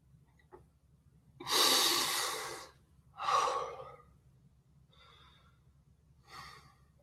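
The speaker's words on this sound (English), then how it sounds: "And big breath out the mouth." A deep breath blown out through the mouth during an office yoga breathing exercise, heard as a long breathy exhale followed by a shorter one and two faint trailing breaths in a quiet room.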